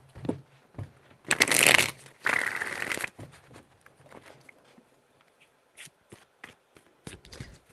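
Tarot cards are shuffled in two loud riffling bursts close by, followed by softer scattered card taps and slides, with no talking.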